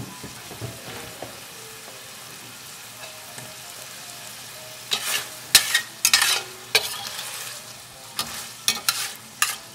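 Sausage crisps in an All-Clad LTD 5-quart pot: a quiet, even sizzle at first, then a run of loud, close scraping and clattering stirs in the pan.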